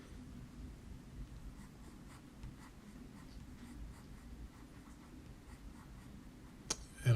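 A green colored pencil scratches across paper while drawing tiger-like stripes, a soft, close, continuous scraping with small strokes and no talking.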